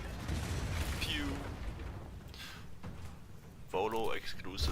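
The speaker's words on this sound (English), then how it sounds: "Volo exclusive firework." Fireworks go off in Baldur's Gate 3, a cluster of booming, crackling bursts amid busy game audio and voices.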